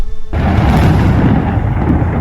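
A loud, rolling thunder boom from a lightning storm in a video game bursts in after a brief quiet start and rumbles on at full strength, deep and continuous, with no talk over it.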